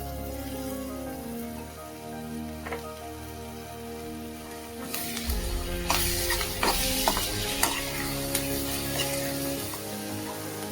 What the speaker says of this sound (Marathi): आता आपण याच्यामध्ये टोमॅटो आणि कोथिंबीर घालणार आहोत। तेही आपल्याला परतून घ्यायचं आहे।